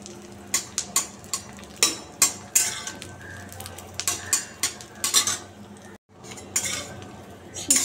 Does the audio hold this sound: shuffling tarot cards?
no